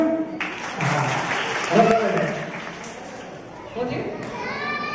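An audience claps at a community prize-distribution event. The applause is steady and fairly loud for several seconds and fades toward the end, with children's voices and a speaker's voice over it.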